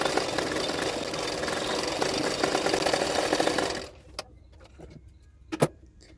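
A domestic sewing machine runs steadily for about four seconds, stitching along a folded blouse neckline, then stops, leaving a few faint clicks and light handling knocks.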